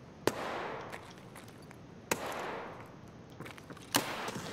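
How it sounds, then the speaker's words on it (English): Three sharp pistol gunshots in a video game crack out at roughly two-second intervals, each a sudden loud burst trailing into a short fading echo over low background hiss. "He was shooting me with a pistol, dude."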